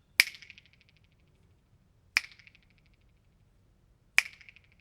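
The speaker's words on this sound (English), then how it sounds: "If I now snap my fingers" Three crisp finger snaps about two seconds apart in a room near a wall, each followed by a short, buzzing flutter echo that rings out before the next snap.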